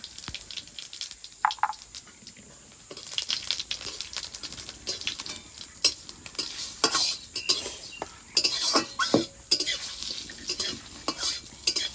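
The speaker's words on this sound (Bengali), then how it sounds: "এবারে একটা তেজপাতা দিয়ে দেবো, একটা শুকনো লঙ্কা দিয়ে দেবো, এবার দুটো গোটা জিরে দিয়ে দেবো।" A bay leaf, a dried red chilli and whole cumin seeds sizzle and crackle in hot oil in a kadai for a Bengali ridge gourd and prawn dish, with steady frying and sharp spitting pops throughout and no voices.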